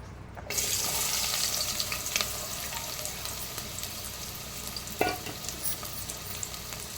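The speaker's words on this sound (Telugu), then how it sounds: "ఆయిల్ వేడయ్యాక ఆనియన్ వేసుకోండి." Onions dropped into hot oil in a pan for an egg curry: a sudden sizzle bursts in after a brief quiet start, then a steady frying hiss with occasional stirring clatter and a sharp knock.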